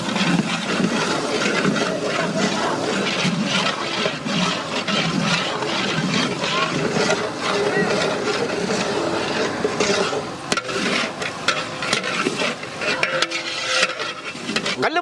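Brinjal pieces are stirred into hot oil with onion and ginger-garlic paste for a biryani eggplant gravy. A dense, loud sizzle with rumbling scrapes runs without a break, and there is no speech.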